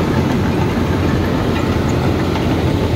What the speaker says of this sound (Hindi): तो अभी ट्रैक्टर अभी नॉर्मल तरीके से चल रहा है, ज़्यादा लोड नहीं आ रहा है इतना